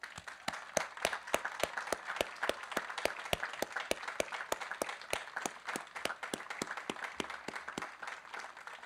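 Applause for high school graduates who are joining the armed forces, at a graduation ceremony: sustained crowd clapping with dense, rapid individual claps throughout, fairly close and even in loudness.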